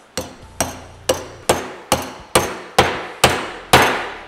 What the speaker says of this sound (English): I can tap it down with a hammer.